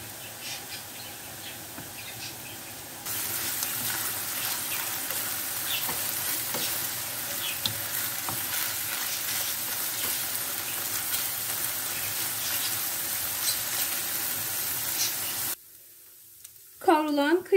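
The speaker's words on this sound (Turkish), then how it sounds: "Özellikle tahta kaşığın alt kısmını bastırarak kavuruyorum ki kıyma çok daha güzel," Minced meat frying in a pan for çökertme kebabı while being pressed down with the back of a wooden spoon, a steady loud sizzle with scraping stirs that runs for a long stretch and then cuts off abruptly.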